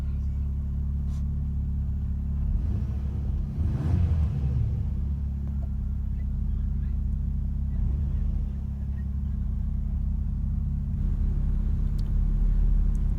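A Toyota Camry in sport mode gives a steady low engine rumble from inside the cabin, with a brief surge of revs early on before it evens out into a constant hum.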